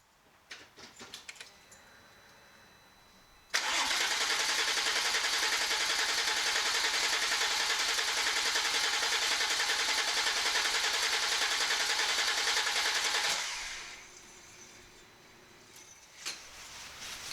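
A starter motor cranks a Porsche 996 Turbo engine in one loud, steady whir lasting about ten seconds, then cuts off, with faint clinks before and after.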